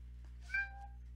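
A single short cat meow, close and distinct, rising above a steady low electrical hum in an otherwise quiet room.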